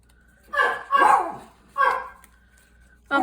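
A dog barks in three loud, close bursts with pauses between, yips and whimpers mixed in, over a quiet indoor background.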